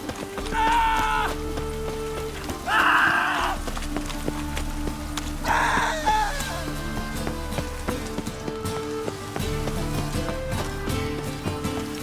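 Rain falls steadily in a city within The Witcher 3 video game, a soft continuous wash under horse hooves clip-clopping, with several brief voiced calls rising above it.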